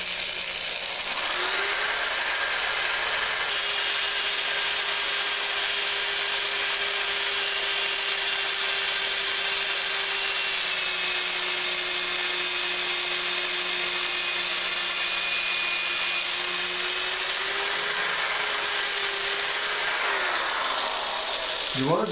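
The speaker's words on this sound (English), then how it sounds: "with this very small diameter drill and get them down to where I want to be" A small-diameter drill bores into the wooden stock comb of a blunderbuss, a steady high whine held for about twenty seconds before winding down.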